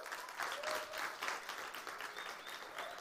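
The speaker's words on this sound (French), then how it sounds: "On peut applaudir Ludo" An audience applauds a person named Ludo at a youth event, a sustained round of clapping heard from a moderate distance and fairly quiet, steady throughout with slight swells.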